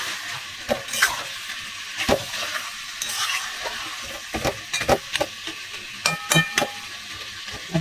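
Spiced food sizzles while it is sautéed and stirred in a covered pan at home, with steady frying hiss and repeated scraping strokes of the spoon close by, with no talking.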